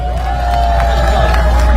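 Crowd at a Korean election campaign rally in Gongju cheering and clapping, a dense, loud wash of voices and applause with a sustained shout running through, near and continuous.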